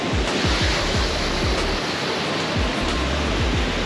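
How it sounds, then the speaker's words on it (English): A waterfall in Newry, Maine roars with a dense, steady rush of falling water, loud and close, with no talk. "Oh man, the falls is right here."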